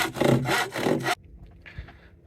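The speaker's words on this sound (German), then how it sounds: "Jetzt schneiden wir mal die Bretter zusammen" Wooden boards being sawn by hand, a few quick rasping back-and-forth strokes heard close and loud, then stopping into quiet handling noise.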